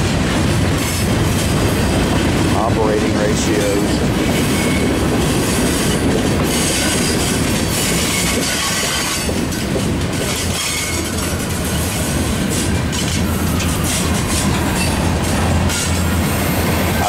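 A Norfolk Southern freight manifest led by SD70ACe and SD70ACu diesel locomotives rolls past close by, its loud continuous rumble carrying rail clatter and intermittent wheel squeal throughout, with a brief spoken phrase.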